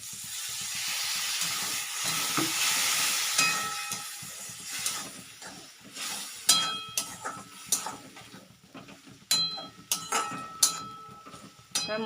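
Masala for an egg and lentil curry, with meat masala and a splash of water, hisses and steams in a pan, then gives way to a series of scraping, tapping strokes as it is stirred and fried.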